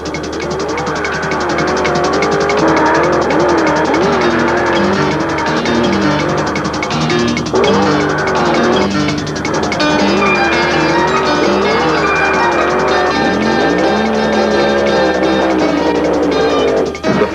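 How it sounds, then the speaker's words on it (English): A funny car drag-racing engine roars continuously through a loud burnout, with screeching tires and a rising, revving pitch near the end. "Look at that burnout!"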